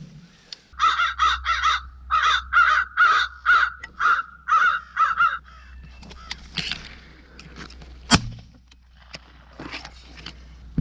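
Crows caw loudly in a rapid series of about a dozen harsh calls during a crow hunt outdoors, followed by quieter scattered sounds and one sharp sudden crack, over low steady rumble.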